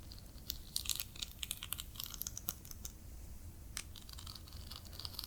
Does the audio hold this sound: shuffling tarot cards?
yes